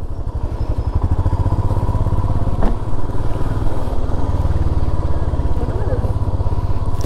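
A motorcycle engine runs steadily in a traffic jam on a mountain road under repair between Tawang and Bhalukpong in Arunachal Pradesh, a loud close putter with a brief thud partway, while people talk over it.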